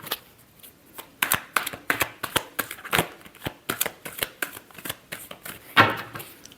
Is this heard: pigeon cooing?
no